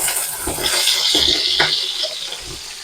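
Potatoes, carrots, pumpkin and green banana fry in hot oil with a steady close hiss, broken by a few soft knocks and stirring clatters.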